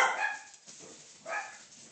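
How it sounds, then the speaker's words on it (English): Dogs barking at home, two sharp, fairly close barks separated by a short pause. "My dogs have started."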